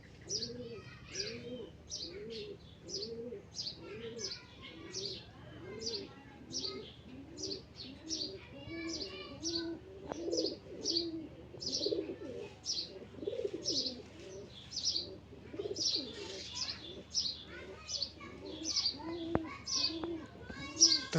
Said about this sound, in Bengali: কবুতরটা খুব ভালো ব্লাড লাইনের একটি কবুতর।